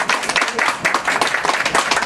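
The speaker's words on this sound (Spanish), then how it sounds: "Bueno, no, un aplauso." An audience at the opening of an aesthetics clinic claps together in dense, continuous applause, loud and close, with a faint voice mixed in.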